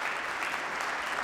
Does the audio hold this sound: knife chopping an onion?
no